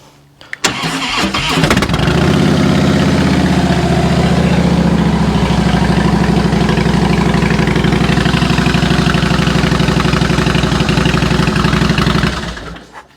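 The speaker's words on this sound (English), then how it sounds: "I'll turn the ignition on. And let's see, hopefully it cranks over a bit easier now." A motorcycle engine fitted with a freshly replaced battery cranks briefly, catches and then settles into a loud, steady idle that runs without a break for about ten seconds before the recording cuts off.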